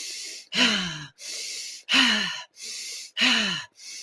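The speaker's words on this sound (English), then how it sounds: "When you do breathing, like intense breathing like that, you are vibrating your cells" Three loud, forceful breaths in a steady rhythm, each sharp gasping inhale followed by a quieter exhale, close to the microphone with no talking.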